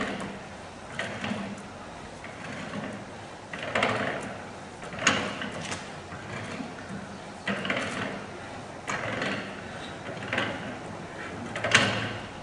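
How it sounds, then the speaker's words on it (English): A part is worked out of a progressive cavity pump housing with repeated scraping and sliding knocks, mechanical and close, coming in uneven bursts through the clip. "As you can see, I'm now removing it from the housing. It's beginning to turn easily."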